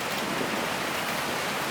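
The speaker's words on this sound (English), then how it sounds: "the rain is getting a bit heavy" Heavy rain falls steadily at Fort Siloso on Sentosa, a dense, even hiss of downpour close by with no voices over it.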